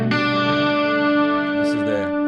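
A dry electric guitar played through a Fractal Axe FX3 rings out as one steady, sustained chord, close and fairly loud, with a slight scrape near the end.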